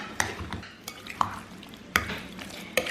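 Chicken is mixed with masala and salt in a bowl, with a series of wet squelching strokes and sharp clinks of a utensil against the vessel at irregular intervals, close by, and no talking.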